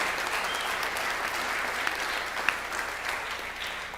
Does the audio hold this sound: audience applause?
yes